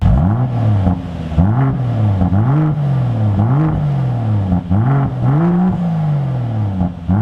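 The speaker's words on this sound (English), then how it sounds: "We also modified the exhaust to make it sound like this." Modified exhaust on a 2010 Volvo XC70 T6 wagon, loud and close, revving repeatedly in a series of rising and falling blips with a steady rumble between them, no talking.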